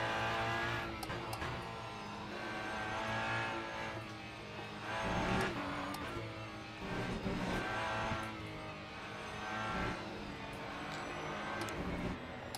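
A race car in the sim racing game Le Mans Ultimate roars loudly and continuously, with the engine note rising and falling through gear changes and occasional tire squeal, heard alone with no talk.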